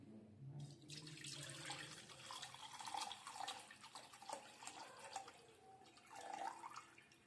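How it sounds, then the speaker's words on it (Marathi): Milk poured into a pot sitting on a lit gas stove, a steady liquid splashing and trickling with small drips, close and continuous for several seconds, no voices. "तर गॅसवर पातेले ठेवलेलं आहे, गॅस ऑन करते। त्याच्यामध्ये आपण दूध ओतूया गरम करण्यासाठी।"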